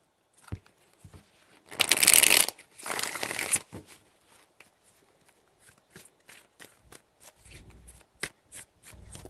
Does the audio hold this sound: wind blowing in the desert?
no